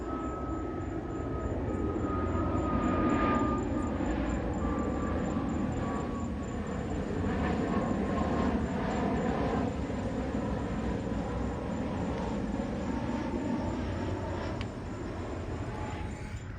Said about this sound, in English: Nice private jet coming in for a landing.